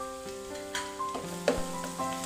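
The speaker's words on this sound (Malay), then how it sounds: "Bawang putih ini juga akan saya goreng sehingga ia menjadi warna keperang-perangan" Finely minced garlic frying in a pan, a steady close sizzle with brief stirring scrapes and clinks, no talking.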